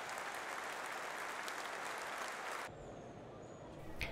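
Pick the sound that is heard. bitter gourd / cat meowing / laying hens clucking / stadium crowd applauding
stadium crowd applauding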